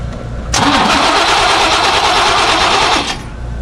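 A 1988 GMC OBS pickup truck, revived after sitting for more than twenty years, cranks and fires up, the loud engine surging to a rough roar for about two and a half seconds before dropping back.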